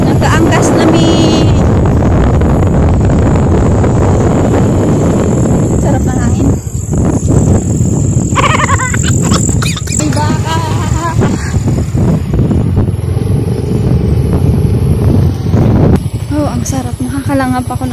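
Loud, steady wind buffeting and road rush from riding pillion on a motorcycle outdoors in Bicol, with someone talking and exclaiming over the roar.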